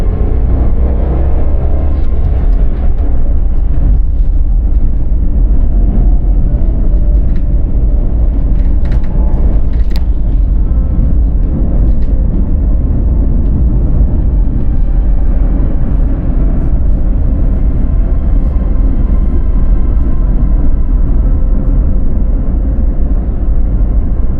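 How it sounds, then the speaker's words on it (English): Renault Triber engine droning steadily while driving, a loud, constant low rumble close inside the cabin with road noise, no talk. "It is a loud engine here."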